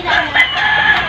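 Young chickens on a small farm clucking and crowing in a steady, fairly close flock chorus, with a few louder calls standing out over about a second.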